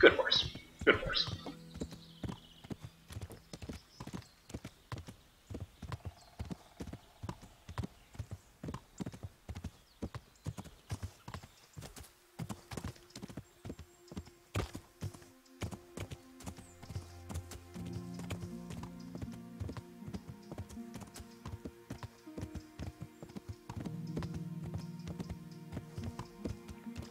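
Steady clip-clop of a horse's hooves on a path in the medieval video game Kingdom Come: Deliverance, rhythmic and close, with a brief whinny near the start and someone talking over parts of the ride.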